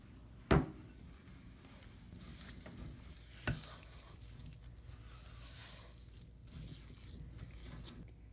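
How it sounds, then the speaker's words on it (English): Peanut butter cookie dough with brown sugar being stirred in a bowl, heard as quiet, low scraping with a sharp knock near the start and another a few seconds later. "I'm gonna stir it up"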